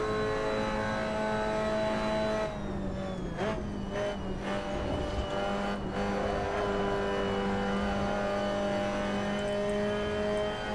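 Mazda MX-5 Cup race car engine in a sim racing game, a steady droning engine tone with a brief shift in pitch partway through, loud and continuous throughout.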